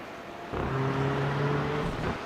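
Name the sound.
racing cars hitting the kerbs at Brands Hatch in a sim racing game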